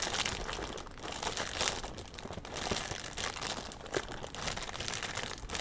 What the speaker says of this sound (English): I can't open this bag of cereal